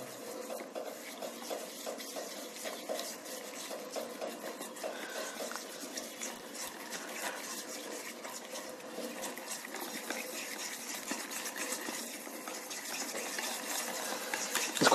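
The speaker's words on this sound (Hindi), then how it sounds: "इसको अच्छे से मिलाएंगे हम।" Cauliflower Manchurian batter is stirred and mixed in a bowl, soft wet scraping and clinking of a spoon against the bowl, close and quiet with a continuous irregular rhythm.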